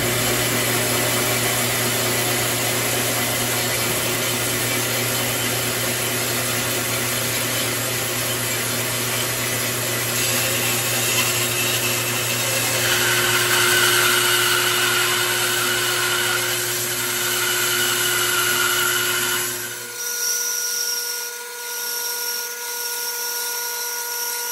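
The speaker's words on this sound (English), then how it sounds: "I resaw this thick piece of spruce into two halves with my" A bandsaw resaws a thick spruce board into two halves, a steady loud whine with a humming motor tone for about twenty seconds, then the cut ends and the blade spins down quieter.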